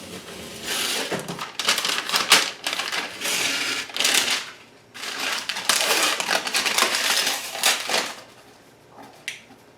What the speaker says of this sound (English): So we'll find an edge we can grab and peel from the grid-sided tape